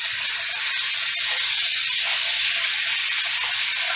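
Salmon fillet sizzling loudly in a hot pan as it is flipped, a continuous close, dense hiss with no talk over it.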